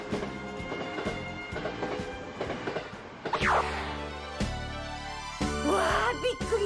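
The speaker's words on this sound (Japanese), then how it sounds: "そう、ラピートも関西国際空港へ行く特急電車なんだよ。" A Nankai Rapi:t limited express train to Kansai International Airport runs along the rails with rhythmic clattering and rumbling, joined briefly by a rising whistle-like tone midway.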